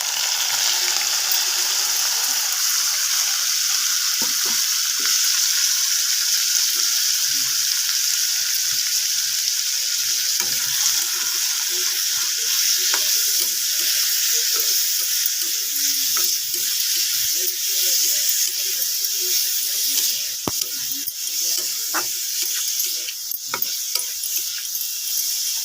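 Fish seasoned with salt and turmeric fries in hot oil, a steady dense sizzle holding for the whole stretch with scattered crackles and pops, close and even, with no voices over it.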